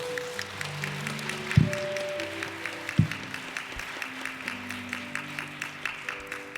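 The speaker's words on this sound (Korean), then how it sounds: "우리 큰 박수로" A church congregation at a Wednesday morning women's worship service claps together in steady rhythmic unison, moderately loud, with a few low thuds and sustained tones underneath and no speech.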